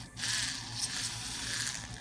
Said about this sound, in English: Let's brush.